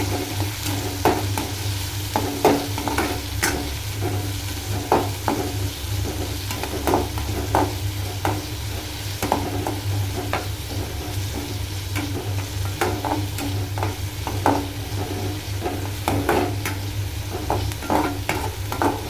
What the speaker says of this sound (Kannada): ಈಗ ಎಲ್ಲದನ್ನು ಮಿಕ್ಸ್ ಮಾಡೋಣ.